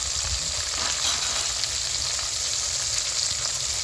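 Oil sizzles loudly and steadily in a pan, frying ingredients for a village-style bitter gourd sambar with field beans, a dense, even hiss with no pauses.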